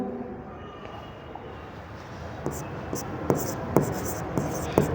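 Pen writing on paper during an accounting lesson, a series of quiet scratchy strokes that grow more distinct toward the end, close up over faint room noise.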